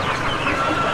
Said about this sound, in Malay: yang ni semua ayam yang kita tengok